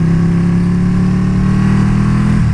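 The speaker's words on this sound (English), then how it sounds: "And I don't know if you can hear my bike." Loud, steady engine drone from a Ducati Panigale with a short straight exhaust, held at a constant pitch while riding in the rain, alone with no voices.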